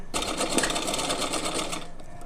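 A sewing machine stitching along a strip of fabric for a decorative turban: a loud, continuous rapid mechanical whir close by, starting abruptly and running steadily for about two seconds before easing off.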